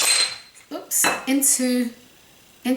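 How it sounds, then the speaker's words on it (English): Cooked sushi rice being turned out of a pot into a bowl, heard as a few loud close clanks and scrapes of a utensil against the pot with short pauses between them. "we're going to turn it out and put it into"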